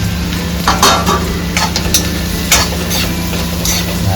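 Roti pieces fry in a pan with asafoetida and sesame seeds, a close, steady sizzle broken by repeated scraping stirs of a utensil against the pan, with no voices.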